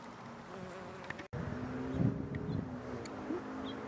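Close-up bumblebee buzzing among flowers by the Pacific Ocean, a low continuous drone with a brief dropout, rising and falling slightly as the insect moves near the microphone over faint outdoor background.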